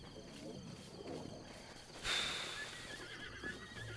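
A horse neighs in a Nintendo Switch video game, one brief whinny rising near the middle, faint against a low steady game soundscape.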